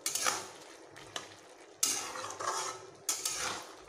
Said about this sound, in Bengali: এবার আমি এই জিরে গুঁড়ো ও ধনে গুঁড়োগুলো একসঙ্গে এইভাবে মিশিয়ে নেব।